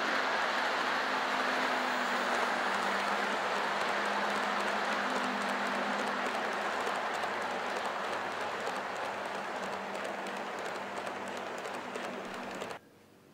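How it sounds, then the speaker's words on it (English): A Kato P42 HO scale model locomotive runs at full speed with Tsunami and LokSound DCC sound, a steady loud rushing drone with a low engine hum that holds for most of the run and then cuts off abruptly. "We're doing a full speed run by so you can see the max speed of this locomotive."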